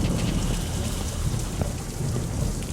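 Thunderstorm from the horror game The Joy of Creation: Reborn, a steady close wash of heavy rain with low thunder rumbling beneath and brief lightning cracks, with no talking.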